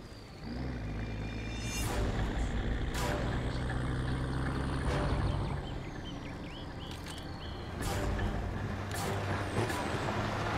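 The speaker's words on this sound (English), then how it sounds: "We're tracking an enemy convoy headed your way." An enemy truck convoy of six vehicles rumbles past in Call of Duty Modern Warfare Remastered, heavy engines droning with sharp air-brake hisses and clanks recurring throughout at close range.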